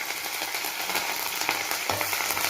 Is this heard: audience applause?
no